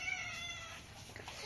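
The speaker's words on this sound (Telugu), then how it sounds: "పిల్లి వచ్చిందా?" A cat meows softly at a home with a vegetable garden, a quiet, drawn-out call with a faint second cry near the end and no talking.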